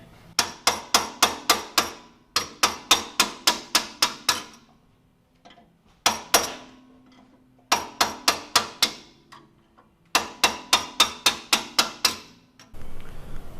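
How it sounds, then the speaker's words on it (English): Sharp metallic hammer strikes on a punch against a car's suspension, landing in quick bursts of about five or six blows separated by short pauses, close and ringing. "I don't own any C-spanners to undo my suspension, so hammer and punch it is."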